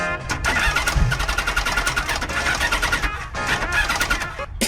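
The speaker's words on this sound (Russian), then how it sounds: "торжественно запускать мотор." A 2009 Harley-Davidson Electra Glide motorcycle engine cranks over and fires up, settling into a loud, close, rumbling idle with a brief dip before revving on.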